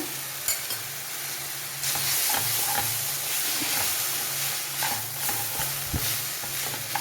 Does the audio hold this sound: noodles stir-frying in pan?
yes